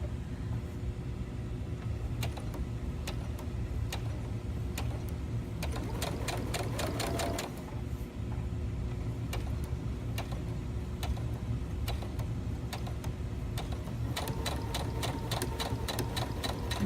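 A sewing machine stitches a clean-finish seam, running steadily and close with a brief shift in pitch partway through as the automatic reverse kicks in, then carries on stitching to the end.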